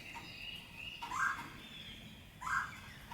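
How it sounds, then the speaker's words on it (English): Birds call outdoors after rain, with two louder bursts of gobbling-like calls standing out over a faint, constant background of other birdsong. "You can hear the birds are all happy."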